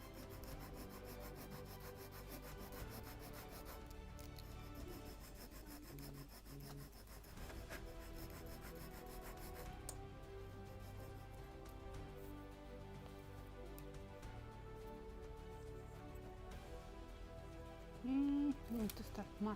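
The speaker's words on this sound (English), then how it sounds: "And definitely more sanding." Steady, continuous rubbing and rasping of sandpaper on the wooden planking of a model ship, close and even, running the whole time with little change.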